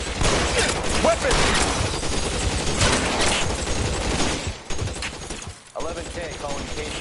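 Dense gunfire from a shootout in L.A. Noire, loud and sustained, with brief gaps near the end and a faint voice under it.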